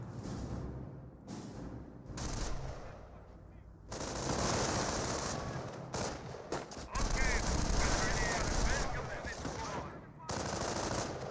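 Gunfire from a Company of Heroes 1 battle: dense machine-gun bursts and rifle shots crackle in rapid, overlapping volleys, with a few short pauses between loud stretches and some faint voices mixed in.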